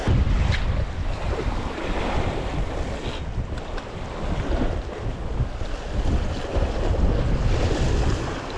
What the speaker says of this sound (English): we've got 30-mile-an-hour gusts of wind as usual for Orkney